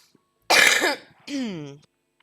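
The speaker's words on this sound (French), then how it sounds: "attends, faut que je tousse." One harsh, close cough bursts out, followed by a drawn-out groaning vocal sound that slides downward in pitch.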